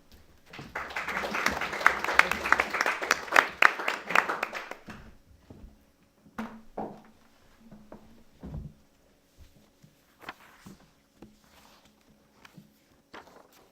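An audience at a 19th-century literature panel gives a warm round of applause for about five seconds, dense clapping that fades into scattered footsteps, shuffling and small knocks.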